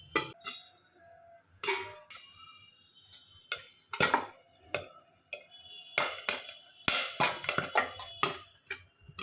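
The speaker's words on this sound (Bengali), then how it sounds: "পপকর্ন ফুটছে, শব্দ পাচ্ছ?" Popcorn pops in a pan in a home kitchen, with sharp, irregular pops that arrive one at a time and then in quicker clusters against a quiet background.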